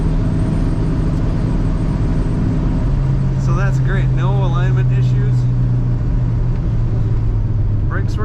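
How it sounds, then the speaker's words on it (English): A red 1968 Plymouth Barracuda 2-door hardtop cruises down the road, a steady low engine and road rumble filling the cabin while someone talks over it. "Going down the road, let go of the wheel."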